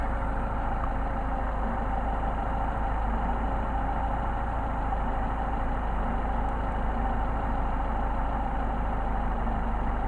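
A small Solex engine with an adjusted carburetor idles steadily at a constant pitch, a continuous close drone with no change in speed and no voices.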